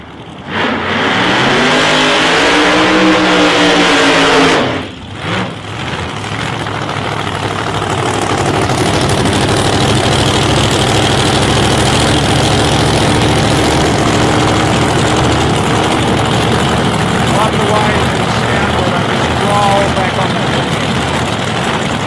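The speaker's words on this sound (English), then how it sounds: "And Mike Evans coming up in the big Hemi Cuda." Plymouth Hemi Cuda drag racing car at an ANDRA drag racing final, its big engine revving in rising sweeps then settling into a loud, lumpy idle, with a commentator talking over it.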